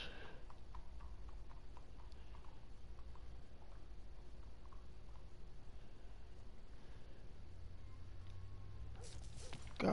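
Horse in the video game Red Dead Redemption 2 approaching, with faint rhythmic hoof clops over a steady low background rumble, quiet and fairly distant, with no talking.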